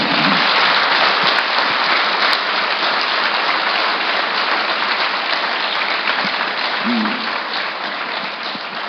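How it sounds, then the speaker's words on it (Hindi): A seated crowd at a satsang gathering breaks into sustained applause, a thick, even wash of many hands clapping close by that carries on for several seconds and eases slightly toward the end. "एक बार तालियां बनती है यार"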